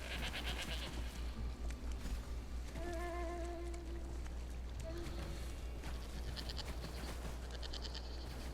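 A goat in the video game Elder Scrolls Online gives a couple of short bleats in the middle, faint under game ambience, music and footsteps.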